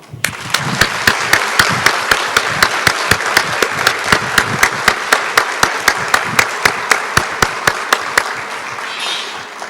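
Audience at a university faculty's end-of-year graduation ceremony applauding loudly and steadily, a dense continuous patter of many hands with one sharp, regular clap standing out close by.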